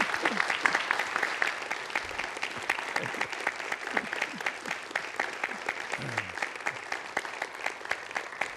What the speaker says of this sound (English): let us have a round of applause for our speakers